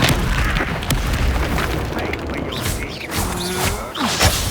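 A spell cast in the Hogwarts Legacy video game bursts out as a booming whoosh and blast, loud and dense, amid continuous game combat effects and a spoken voice.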